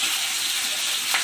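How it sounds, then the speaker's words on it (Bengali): Fish sizzling in hot mustard oil, a steady close crackling hiss with no break across the short stretch. "এখন অল্প অল্প করে মাছ ভেজে নেব"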